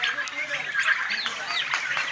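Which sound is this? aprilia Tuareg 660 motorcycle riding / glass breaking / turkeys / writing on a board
turkeys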